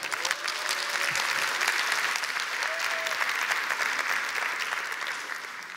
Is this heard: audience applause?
yes